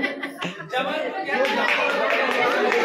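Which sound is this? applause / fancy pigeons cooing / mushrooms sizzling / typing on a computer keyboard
applause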